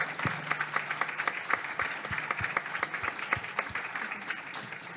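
Audience at a talk on tech careers in the Bronx applauding, a steady patter of many hands with sharp nearer claps standing out, moderately loud and continuous for about five seconds with no voices.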